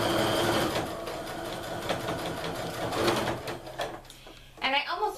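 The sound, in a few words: sewing machine stitching sweater mittens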